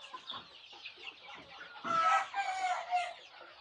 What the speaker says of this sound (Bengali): এখানে আজিজ মাহমুদ ভাইয়ের একটা দেশি মুরগির ফার্ম রয়েছে